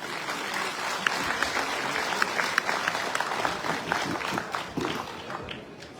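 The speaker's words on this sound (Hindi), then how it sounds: "दौड़ के तालियों के साथ स्वागत करें इनका।" An audience at a business meeting in Punjab claps to welcome guests onto the stage, a moderately loud, somewhat uneven round of applause with individual sharp claps standing out, continuing steadily before easing slightly.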